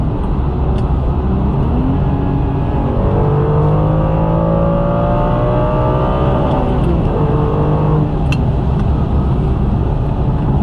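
A Ferrari 550 Maranello's engine revs loudly through a downshift, its tone climbing and falling in sweeping waves over a steady deep rumble for about ten seconds, with no talking.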